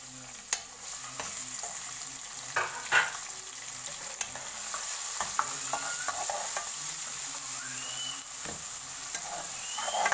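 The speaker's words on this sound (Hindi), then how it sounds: "अब इसमें मैं डाल दूँगी ये टमाटर चॉप किए हुए।" Chopped tomatoes hit a golden-brown masala in a hot pan, and a steady sizzle and frying hiss continue with intermittent stirring clinks and scrapes.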